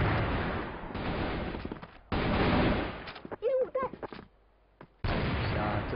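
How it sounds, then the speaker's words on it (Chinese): Gunfire from various weapons in a CrossFire pro league match, heard as dense bursts of rapid shots in several long stretches with short gaps, with commentators talking between bursts. "各种枪械在开枪"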